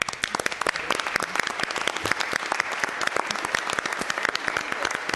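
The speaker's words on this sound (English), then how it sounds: "I'd love for us to start with a round of applause" A room at a city Board of Supervisors meeting breaks into applause, many individual claps rattling densely and steadily for about five seconds with no talk over them.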